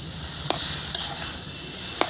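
Taro paste for a tilapia curry sizzles steadily in a hot pan, with three sharp scrapes of a spoon stirring it, close and fairly loud.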